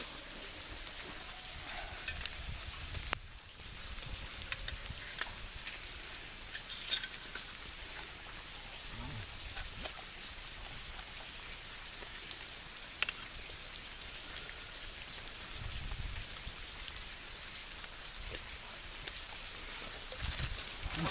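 Steady rain falls on a bushcraft camp in the bush, a constant hiss of drops with occasional louder patters and no voices.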